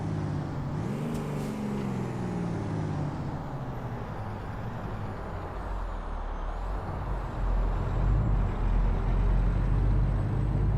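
Air brakes hiss from a truck in American Truck Simulator, under steady engine rumble and road noise, with a broadband release near the start and the low drone swelling toward the end.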